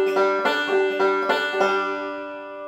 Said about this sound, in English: And a forward roll would sound something like this.